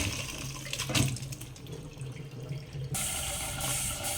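Water rushing and splashing as it drains from sliced bitter melon through a strainer, loud and close, with a brief dip before the flow picks up again.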